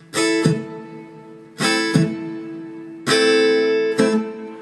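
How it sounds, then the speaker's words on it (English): Three guitar strums, each a ringing downstroke followed by a short percussive muted upstroke, played close in a slow steady pattern. "a quick combination of a down and up stroke where you mute the string only on the up stroke"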